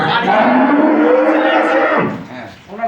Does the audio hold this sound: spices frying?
no